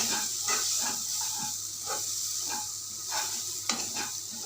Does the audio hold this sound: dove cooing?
no